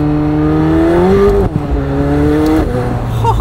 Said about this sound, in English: Let's do a quick acceleration, shall we? Downshifting.